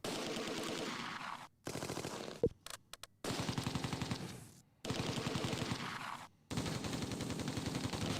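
Bursts of rapid machine gun fire from the Close Combat 2: A Bridge Too Far wartime strategy game, loud sustained rattling volleys separated by brief silences, with one sharp single report mid-sequence.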